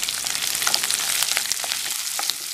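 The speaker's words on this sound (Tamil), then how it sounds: "இதெல்லாம் சேர்த்து கொஞ்சம் வதக்கிக்கலாம்." Curry leaves, onion and green chilli sauté in a hot pan for coconut fried rice, giving a steady, close crackling sizzle with faint stirring scrapes and no voices.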